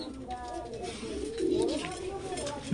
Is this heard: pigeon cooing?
yes